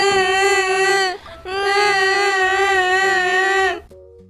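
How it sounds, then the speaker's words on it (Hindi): Two children cry loudly in a long wailing sob, pause for a breath, then wail again before breaking off, with no talking over them. "ये सुनकर दोनों बच्चे रोते हुए वहाँ से चले गए।"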